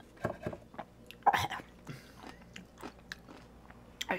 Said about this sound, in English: Are you still eating the pickle?